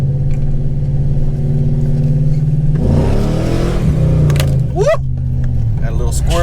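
A 2006 Chevy Silverado Intimidator SS pulls a U-turn and accelerates, its engine rumbling loud and close, then revving harder with a rising whoosh and brief tire chirps.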